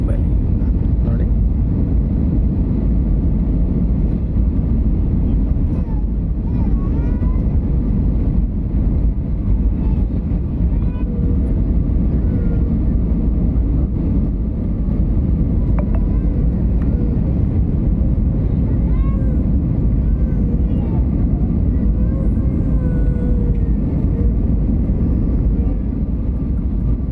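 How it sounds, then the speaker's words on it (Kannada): Steady, loud roar of an Air India airliner cabin, flight AI 2415, descending from cruise toward a safe landing, a continuous broadband rumble throughout with faint voices underneath. "ಇನ್ನೇನು ಸೇಫ್ ಲ್ಯಾಂಡಿಂಗ್ ಪ್ಲ್ಯಾನ್ ಮಾಡ್ತಾ ಇದ್ದಾರೆ"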